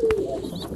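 French meat pigeon cooing in a nest, a single short, close, soft coo.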